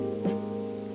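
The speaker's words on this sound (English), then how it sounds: "rain is still slightly coming down" Light rain pattering on a surface beside winter water during a carp fishing session, steady and close, with a low continuous hum running underneath.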